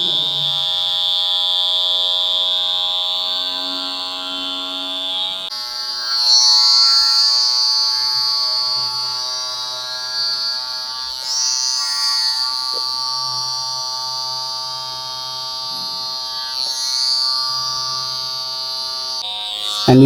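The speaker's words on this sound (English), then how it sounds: "Uneven surface we can trim with our trimmer" An electric trimmer buzzes steadily across an uneven rug surface, a close, continuous whine that shifts slightly in pitch as it moves over the pile, with no voices.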